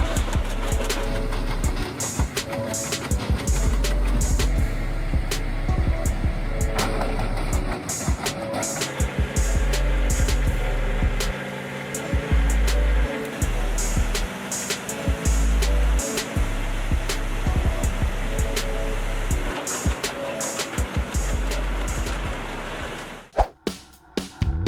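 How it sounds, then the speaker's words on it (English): An Ecolog 688F forestry harvester works through tree trunks in a forest, its loud, continuous low engine and hydraulic roar broken by repeated sharp cracking and snapping bursts, heavy and close throughout. "when the Ecolog 688F's hydraulic arms are activated, massive trunks are transformed into piles of wood in seconds"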